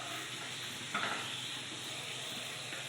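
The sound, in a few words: frying mocha paturi in a pan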